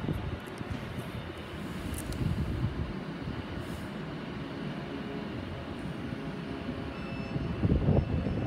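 Train rolling through Watford Junction station on the West Coast Main Line, a steady broad rumble of wheels and carriages close by that swells slightly toward the end, with no talk.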